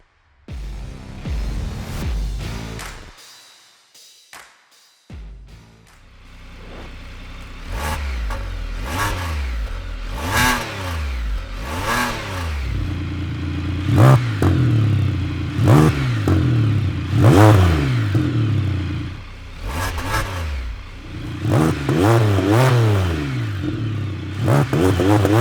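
A Can-Am Spyder RT fitted with a Thermal R&D cat-back exhaust revs repeatedly, loud close throttle blips rising and falling in a series after a short quiet gap, with no talking.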